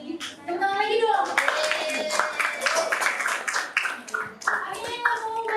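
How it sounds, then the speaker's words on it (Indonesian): Classroom of children clapping their hands in a ragged burst, mixed with kids' chatter and voices throughout. "Tepuk tangan lagi dong."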